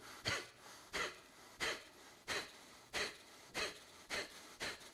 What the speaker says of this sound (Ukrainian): Якщо вам складно дихати активно, ми дихаємо у такому темпі.